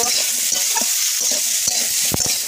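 Brinjal and potato sizzle loudly in a pan of hot oil while a spatula stirs them, giving steady frying hiss broken by repeated scraping strokes.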